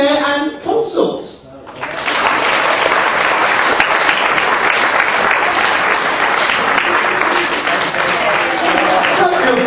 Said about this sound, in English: give him a nice warm round of applause